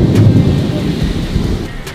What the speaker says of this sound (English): Thunder lightning in Missouri.